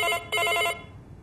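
A telephone bell rings loud and close indoors: two rapid ringing bursts separated by a short gap, then a quiet fade with no talk.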